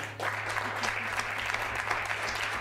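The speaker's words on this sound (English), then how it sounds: "Give yourselves a round of applause." An audience at a coffee house concert claps steadily, a dense even wash of applause that holds for a couple of seconds with no voices.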